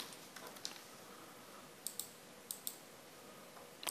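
Sharp mouse clicks in a quiet room, a few scattered single clicks followed by quick pairs, close and crisp over a faint background hiss.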